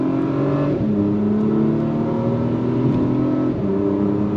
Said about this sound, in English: It almost like blips it just a little bit and then downshifts all by itself.